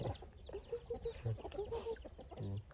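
Chickens clucking close by, a run of short, rhythmic clucks with a few louder calls, moderately quiet, with no talking.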